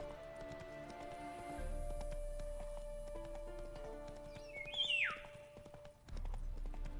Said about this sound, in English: Well, there's the horse.